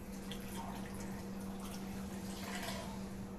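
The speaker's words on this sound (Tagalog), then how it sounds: "Lagyan natin ng tubig." Water poured into a container while making apple and carrot juice, a faint, steady trickling with a low background hum, no talk.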